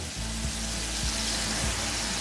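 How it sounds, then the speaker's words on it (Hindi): Chicken frying in a pan for murgh kata kaat, a constant loud hiss of sizzling oil with faint periodic low thumps underneath, close and continuous, no talking. "चिकन फ्राई हो चुका है, चिकन का कलर बिल्कुल चेंज हो गया है।"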